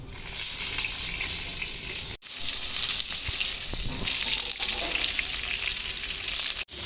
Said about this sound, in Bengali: এবার পাতা মাছগুলো দিয়ে দেবো